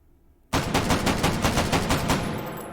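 A MAS 49/56 rifle with a muzzle brake fires in the VR game H3VR, a rapid string of about ten loud, close shots that bursts in suddenly after near-silence and trails off into reverberation.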